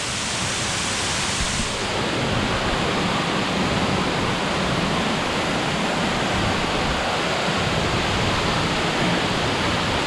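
Orglice waterfall in Kamniška Bela roars close by with a dense, steady rush of falling water that stays loud and unbroken throughout, with no voices.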